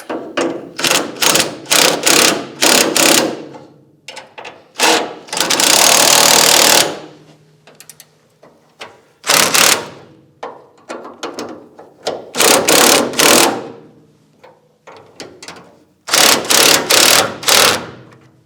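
Bolts on a vehicle being tightened with an impact-style power tool during a winter DIY repair: loud repeated rattling bursts, short and longer, separated by pauses, close by.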